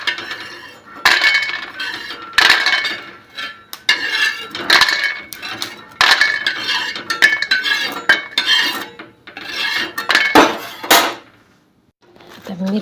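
Roasted peanuts scraped and tipped out of a pan while cooking capsicum curry, with repeated metallic clinks and clatters of a spoon against the pan in irregular bursts, close and fairly loud, with a brief pause near the end.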